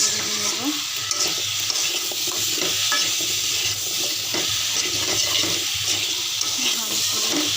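Spiced taro roots (kochu) frying in oil in a pan, giving a steady close hiss and sizzle with faint stirring scrapes throughout, no talking.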